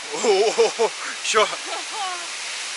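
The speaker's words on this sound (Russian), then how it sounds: "Скорее всего, это шум водопада." A waterfall in the Chegem gorge gives a steady rushing hiss in the background while people talk close by over it.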